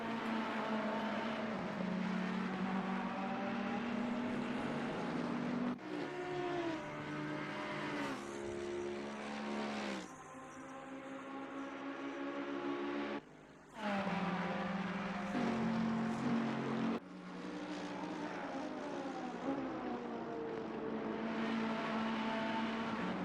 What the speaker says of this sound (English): The real battle start back here with this Alejandro Chiribo and Lucas Fischer battle, which is still going on in the first two Ferraris.